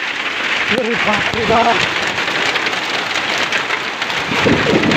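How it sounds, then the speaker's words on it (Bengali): Heavy rain from a sudden storm pours down around a turkey and chicken farm as a constant loud hiss of drops on surfaces, while a voice speaks briefly near the start. "বৃষ্টি আসতেছে। দেখেন শব্দটা শুনছেন"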